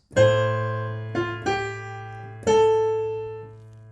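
A few piano notes and chords from a chorus struck one after another and left to ring out, clear and close, with no voices.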